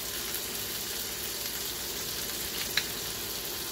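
Sous-vided ground beef searing in a pan, a faint, even hiss of frying fat with one small pop near the end.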